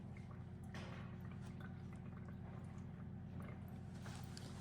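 Coolant drips and trickles from a Nissan S14 engine during teardown, faint scattered drips over a steady low hum.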